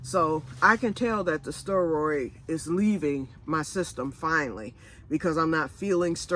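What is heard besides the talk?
None of the usual background noises is heard.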